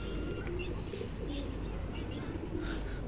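A pigeon with clipped wings coos softly a few times amid constant loud background rumble and noise, with faint voices present.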